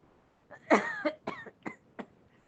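A person coughs close by: one heavy hacking cough followed by several shorter, spaced coughs.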